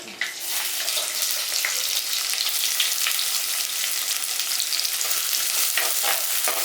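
Sliced onions dropped into oil with popped mustard seeds in a pan set off a loud, dense, continuous sizzle from a sharp start, hissing steadily up close with no talking.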